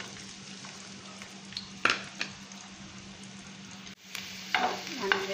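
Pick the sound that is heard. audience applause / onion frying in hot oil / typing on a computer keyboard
onion frying in hot oil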